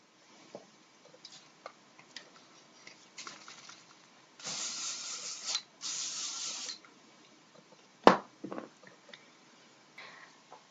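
Hairspray misted over tightly curled hair in two long, steady hissing bursts close to the mic, separated by a short pause, with quieter handling clicks and a sharp knock around them.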